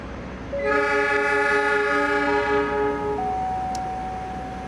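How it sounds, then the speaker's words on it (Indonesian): The Cakrabuana passenger train pulls into Cikampek station in Indonesia, sounding a long, loud multi-tone horn over the rolling rumble of the rail cars. "Yang baru masuk ini adalah kereta api Cakrabuana dari stasiun Gambir tujuan stasiun Cirebon."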